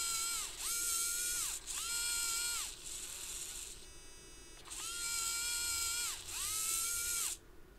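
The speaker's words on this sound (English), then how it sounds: "This is a continuous servo motor. Now I can control it with my lever here." A continuous-rotation servo motor driven by an Arduino through MIDI whines in repeated bursts, each rising, holding a steady high buzzing tone, then dropping, with short pauses between runs and no talk.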